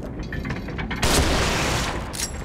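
Gunfire in The Evil Within, a loud sharp burst around one second that decays into a noisy tail, with softer mechanical clicks before and another short blast near the end.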